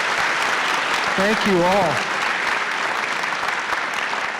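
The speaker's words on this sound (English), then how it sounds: "So if we could have a round of applause for Ron, Margaret, Paul, Ryan, and Gina." Audience applause for orientation panelists at a graduate orientation session, a continuous wash of clapping from a room of people, with a brief spoken voice over it partway through.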